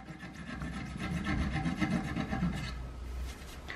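Hacksaw with a ground-down blade cutting and filing a fret on a 6-string bass, a close, rhythmic rasping scrape of metal on wood in quick strokes, alone without speech.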